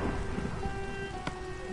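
Steady rain with a low rumble of thunder during a Minecraft thunderstorm, continuous and fairly loud, with one sharper crack about two-thirds of the way through.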